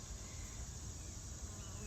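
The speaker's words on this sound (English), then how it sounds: "I've got a little buzzy bee coming to appreciate it as well" A small bee buzzes steadily in a garden, a faint continuous drone under soft outdoor ambience.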